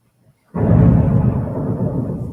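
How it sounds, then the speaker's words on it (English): Thunder from a big passing storm rolls in with a sudden deep boom, then a long rumbling roar that slowly fades, loud and close with no talking over it. "Did you just hear that thunder?"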